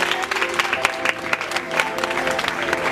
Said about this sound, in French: Applaudissez pour eux